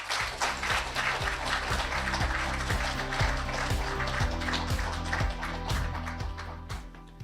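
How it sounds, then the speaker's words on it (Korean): An audience applauds at a Korean international politics association annual conference as a minister is welcomed to the stage, a dense, steady clapping that continues throughout and tapers slightly at the end. "조현 장관님을 큰 박수로 모시겠습니다."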